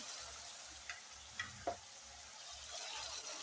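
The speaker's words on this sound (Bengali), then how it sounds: "নাড়তে যাচ্ছি ভালো করে, সুন্দর করে কষাতে হবে" Ginger paste and green chili paste stirring in hot oil make a faint, low sizzle with a few soft spatula taps and scrapes spaced apart, and no voices.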